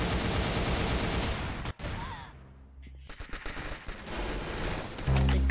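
Rapid automatic gunfire in the video game Arsenal, loud bursts that pause briefly partway through and then resume in sharp volleys.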